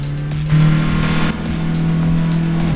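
Honda Civic Type R FL5 engine in Assetto Corsa, a steady simulated drone holding at constant revs with a brief surge, racing alongside other cars from the back of the grid.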